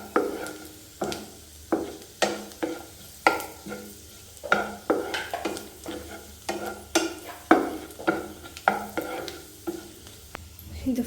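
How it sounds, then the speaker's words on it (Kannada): Ingredients frying on a low flame in a pan for a homemade paneer sandwich, with a soft sizzle under repeated rhythmic stirring scrapes and taps, close by, with no talking. "ಇದೊಂದು 2 ಮಿನಿಟ್ಸ್ ಫ್ರೈ ಮಾಡ್ಕೊಳ್ಬೇಕು"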